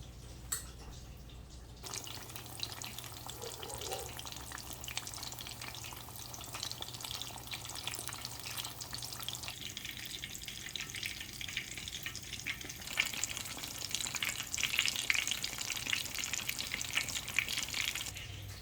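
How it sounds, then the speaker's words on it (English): Chicken fried steak sizzles in a frying pan with a steady crackling hiss. The cooking is moderately close and carries on throughout, with faint clinks and stirring noises over it. "I'm going to take it over to where you hear the other one sizzling, and I'm going to put it in."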